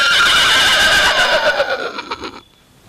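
A voice mimics a horse, with a loud, close whinny that trails off into a quieter tail. The imitation is modeled on a horse pulling a tonga cart.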